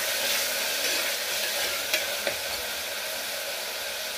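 Tomato being stirred into fried onions in a pan for a Telugu-style chicken fry piece pulao, a steady loud sizzle of frying with faint scraping of the spoon and a couple of small clinks.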